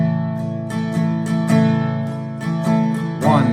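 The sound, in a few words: guitar strumming in three-four time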